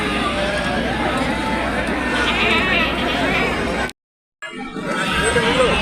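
Goats bleating at a Thursday village market in Prakasam district, Andhra Pradesh, amid a busy crowd hum, continuous and close, with a brief cut to silence before the animal noise and babble resume.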